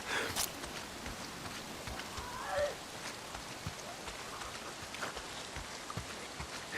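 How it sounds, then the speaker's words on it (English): Steady rain patters down in the zombie survival game Days Gone, a dense hiss with scattered drips and a few soft thuds like footsteps, moderately loud throughout. "If it's not the freaks, it's the goddamn rain."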